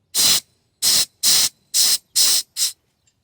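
Residual propane pressure vents from a Flame King refillable 1 lb cylinder in six short, sharp hissing bursts, each under half a second, separated by brief silences, with the last burst shorter.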